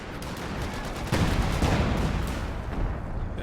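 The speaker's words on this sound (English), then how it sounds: "Is that the priest barraging the center?" Priest artillery barrage in the video game Company of Heroes 2, a dense rolling rumble of booming impacts and blasts that swells after the first second and continues loud without talk.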